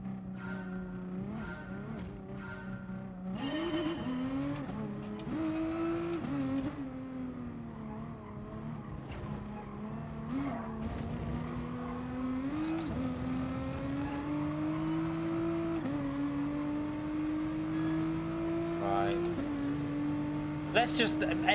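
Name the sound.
GTR race car driving in video game GT Sport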